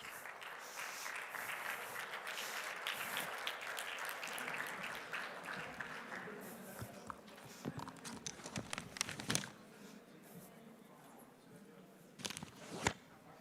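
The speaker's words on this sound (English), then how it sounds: "Please, a big applause for them." Applause from a congress audience in Bilbao, a soft wash of clapping that thins out after several seconds into scattered claps and rustling handling noises.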